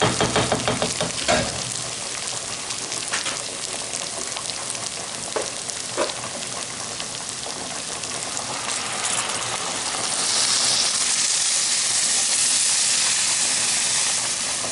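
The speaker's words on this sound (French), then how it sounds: "Maintenant je vais ajouter de l'eau bouillante." A pot of stuffed chicken with rice and preserved lemon simmers with a steady sizzle and hiss, and the sound swells into a louder, rushing steam as boiling water is poured in near the end. No one speaks.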